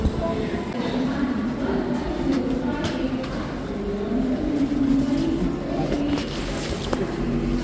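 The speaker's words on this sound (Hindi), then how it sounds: "सो गाइस आ गए हैं हम स्टेशन और ये खड़ी हुई है पुष्पक एक्सप्रेस, जिसे हम जाने वाले हैं" A railway station platform where the Pushpak Express superfast train stands, with a continuous low rumble and platform bustle, birds, and voices talking throughout.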